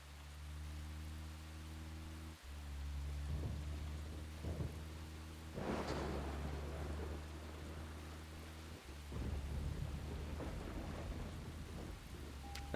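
Steady rainfall with rolling thunder in a video game, a continuous wash of rain under low rumbles and a louder thunder crack midway, plus a low droning hum throughout; no talking.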